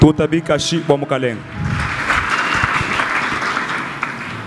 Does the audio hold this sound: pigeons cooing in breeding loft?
no